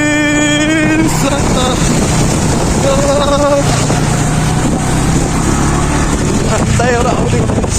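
A motorboat crossing the sea drones loudly and constantly, its engine hum mixed with rushing wind and water noise throughout.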